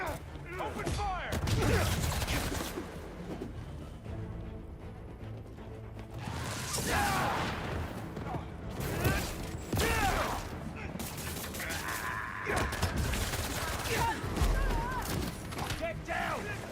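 Gunfire and explosive booms from the Spider-Man 2 video game, with shouting game voices over sustained bursts of shots and whooshes.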